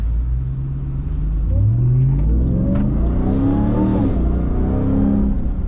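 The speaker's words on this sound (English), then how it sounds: "let's take a little drive real quick" A 2022 Ram TRX pickup truck's engine revs up loudly while driving, its pitch climbing in rising sweeps and then easing back, close and alone with no talking.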